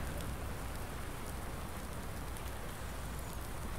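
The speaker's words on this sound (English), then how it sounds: "it's raining. I hate working in the rain." Steady rain pours down in the Farming Simulator 19 game world, a continuous even hiss of drops on surfaces that fills the whole stretch without pause and with no talking.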